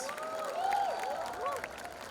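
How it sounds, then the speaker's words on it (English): Audience clapping during a Comic Con session in Mumbai, a modest continuous patter beneath melodic tones and a voice, moderately quiet and even throughout. "round of applause, guys"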